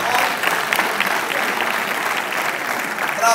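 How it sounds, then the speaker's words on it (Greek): A standing audience at a Greek celebration or ceremony gives a warm round of applause, a dense, loud and steady clapping that holds for several seconds and swells slightly at the end. "ένα χειροκρότημα"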